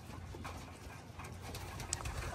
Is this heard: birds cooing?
yes